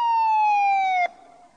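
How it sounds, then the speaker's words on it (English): A police car siren wails loudly and close, one long sustained falling tone that cuts off abruptly and drops to a quieter, lower held note. "A police car came to the telephone box."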